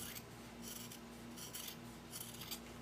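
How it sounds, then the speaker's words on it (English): Scissors trimming fabric for a small sewn wallet, several soft close snips and rasping cuts repeating in quick bursts, quiet and without talking. "Now you're going to need to trim this just a bit so you don't have a lot of bulk."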